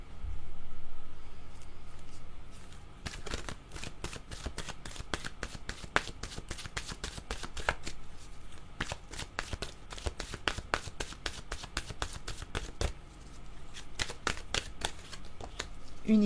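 Oracle cards shuffled by hand, a rapid run of crisp close riffling flicks and taps continuing for many seconds after a quiet start, no voices.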